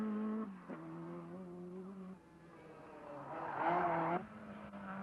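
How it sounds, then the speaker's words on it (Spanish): A 1985 Costa Blanca rally stage car, in the era of the Lancia rally cars and Carlos Sainz, drives hard with a loud, steady engine note that drops and then surges again near the end as it accelerates. "Rompiendo el interminable desfile Lancia, Carlos Sainz venía dispuesto a dar todo de sí para dejar bien a su marca"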